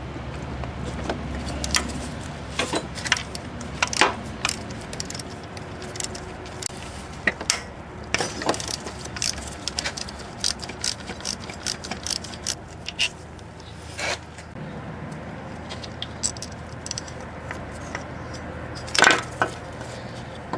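A ratchet works on the timing belt tensioner bolt of a 2000 Chrysler 300M, giving scattered metallic clicks and clanks from close by over a low ambient background.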